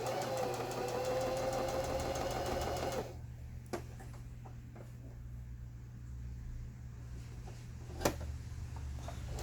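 A Janome 6019 sewing machine stitches a straight line with a steady, close mechanical whir for about three seconds, then stops, leaving faint clicks and a low background hum.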